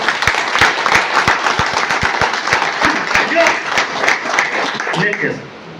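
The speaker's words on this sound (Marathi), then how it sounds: "सर्वांनी एकदा जोरदार टाळ्या वाजवून दाखवा." An audience at a training session breaks into strong, sustained applause, with many hands clapping loudly and close for several seconds before it fades out at the end.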